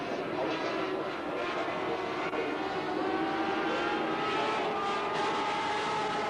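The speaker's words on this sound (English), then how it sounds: "Steve Webster is showing some daylight between his machine and Beeland" Sidecar racing machines at the 1988 West German Grand Prix at the Nürburgring, on slick tyres, produce a steady, loud engine roar that drones on without a break throughout.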